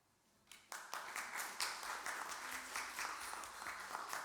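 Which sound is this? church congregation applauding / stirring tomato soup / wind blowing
church congregation applauding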